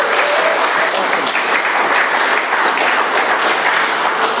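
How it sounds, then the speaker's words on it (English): Steady, close, full applause from the crowd at an Alcoholics Anonymous meeting in Doylestown, Pennsylvania, continuing unbroken at an even loudness throughout. "Let's give Ed another round of applause."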